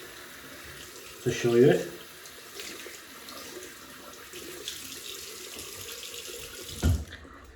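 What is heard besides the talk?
water tap running, rinsing shaving brush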